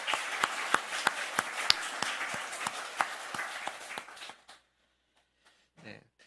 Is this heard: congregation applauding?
yes